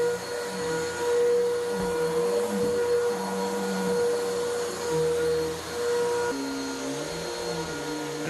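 Vacuum cleaner pre-vacuuming dry soil in a house, a steady close motor whine with shifting pitch as the nozzle moves, running alone throughout.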